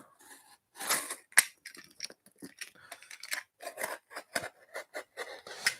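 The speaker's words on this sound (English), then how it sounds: "trying to get this box open. This is really well wrapped." Cutting open a heavily wrapped parcel box, with a series of sharp snips, crinkles and tearing tape sounds in irregular close bursts, fairly quiet and without speech.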